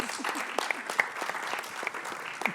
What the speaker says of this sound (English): give a small amount of applause for the bravery of some of the audience